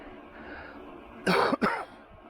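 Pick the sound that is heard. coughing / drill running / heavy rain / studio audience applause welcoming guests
coughing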